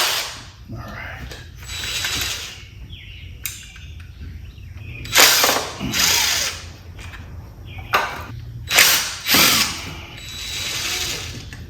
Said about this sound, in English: Trying an old drill and tap set that I've had for probably 35 years